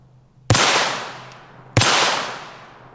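Two sharp .22LR rifle shots at a steel target fitted with a gel pop pack, each a crisp crack followed by a ringing metallic decay, about a second apart, loud and close.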